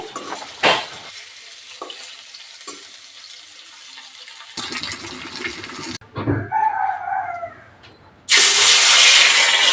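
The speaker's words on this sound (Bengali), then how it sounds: "সব মাছের পিস উল্টে পাল্টে ভেজে নিচ্ছি" Katla fish pieces frying in a pan of oil as they are flipped over: hissing sizzle bursts rise and fall with clatters of turning, a loud sizzling surge at the end, and a brief fowl-like squawk mid-clip.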